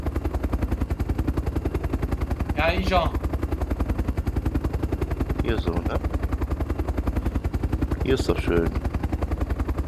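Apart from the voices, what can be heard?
helicopter flying, from the video game Arma 2 DayZ Epoch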